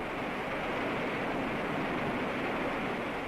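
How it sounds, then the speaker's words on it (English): Water pouring through open sluice gates over a hydroelectric dam in Panama, a steady, broad roar of rushing water heard at an even level with no voices. "the water pours over the dam and rages downstream"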